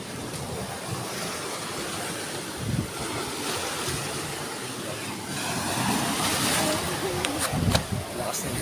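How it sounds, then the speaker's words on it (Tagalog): Strong ocean waves roar steadily with broadband wash and wind buffeting the microphone, a few heavier surges breaking near the end. "Lakas ng alon."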